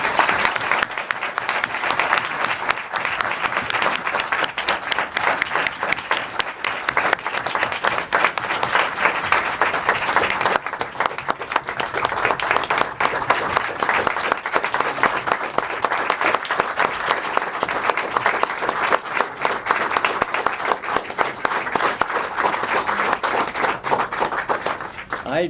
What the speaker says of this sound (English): maybe give you a round of applause